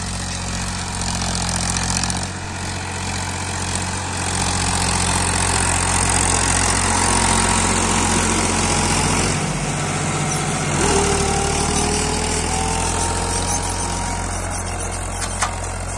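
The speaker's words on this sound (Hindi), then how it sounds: "लोग चौथे गियर में चल रहा है ट्रैक्टर।" Powertrac 434 DS Plus 39 hp single-clutch tractor engine running in fourth gear, a steady loud diesel drone with continuous low rumble throughout, heard close with no talk.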